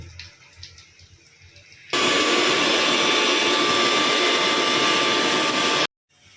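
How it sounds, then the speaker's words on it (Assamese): An electric mixer grinder grinds behar spice paste for an Assamese fish curry, a loud steady whirring roar that starts suddenly after quiet kitchen noise, runs for about four seconds and then cuts off abruptly. "আৰু এতিয়া বেহাৰখিনি মিক্সিত মাৰি লওঁ।"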